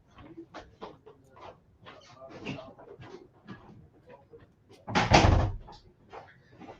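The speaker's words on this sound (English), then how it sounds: "I'm going to shut my door" An indoor door pushed shut with a single solid thud near the end, preceded by scattered footsteps and small handling noises in a quiet room.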